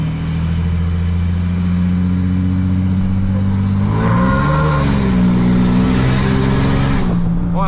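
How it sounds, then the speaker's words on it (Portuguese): A RAM 2500 pickup truck with traction control disabled revs hard and spins its tires, a loud steady engine roar rising in pitch partway through with tire squeal, close and continuous. "Olha, ela patina pneu."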